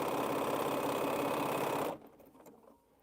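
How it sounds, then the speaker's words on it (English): A sewing machine whirs in a loud, steady, fast run while stitching quilt half-square triangles, then stops abruptly, leaving a quiet room with a few faint handling sounds. "I'm going to sew these half square triangles"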